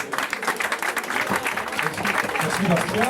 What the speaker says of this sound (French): je pense qu'on peut encore les applaudir très fort